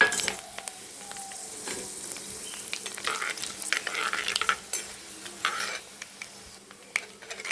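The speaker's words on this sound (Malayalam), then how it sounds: "കടുകെല്ലാം പൊട്ടി." Mustard seeds and green chillies frying in coconut oil in a hot pan, crackling and sizzling loudly while a spoon stirs and occasionally clinks against the metal.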